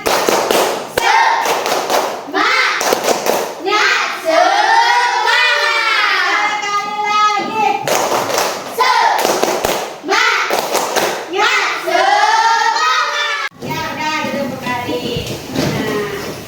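A classroom of young pupils doing a rhythmic spirit clap (tepuk semangat), loud patterned bursts of clapping alternating with children's chanting voices, up close.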